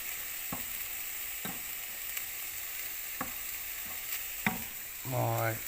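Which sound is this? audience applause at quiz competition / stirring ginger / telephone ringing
stirring ginger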